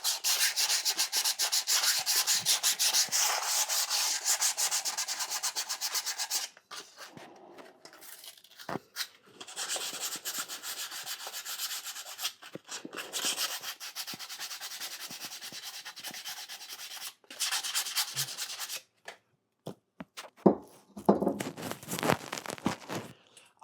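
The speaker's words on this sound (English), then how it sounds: "So putting this on, then you can grind the pot." A pottery piece is ground before glazing, giving long stretches of harsh, steady abrasive rubbing that stop and restart several times, close to the microphone.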